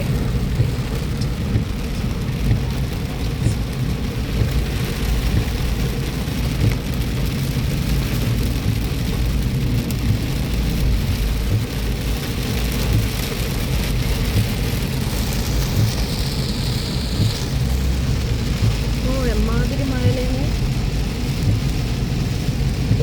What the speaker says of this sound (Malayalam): ഇപ്പതാ ഭയങ്കരമായിട്ട് മഴ പെയ്യണേ